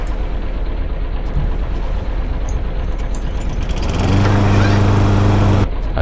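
In the Stranded Deep game, a small outboard boat motor runs loudly as a steady mechanical drone that rises into a stronger buzzing hum near the end and then cuts out abruptly.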